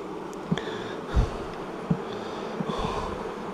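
Honeybees buzz around an open hive during late-season beekeeping in the South East, a soft continuous hum with occasional closer passes and small knocks, fairly faint and alone.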